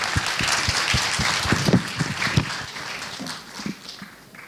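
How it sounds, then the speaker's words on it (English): A conference audience in Malaysia applauds as a speaker is welcomed onstage at an entrepreneurship summit, a dense, steady wash of clapping with a few sharper individual claps standing out before it thins toward the end. "Let's give him a round of applause"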